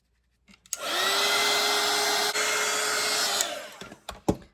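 A hair dryer dries wet watercolor paint on paper, clicking on and then blowing as a steady, close, loud whine with a constant hum for about three seconds before switching off, with a few handling clicks after.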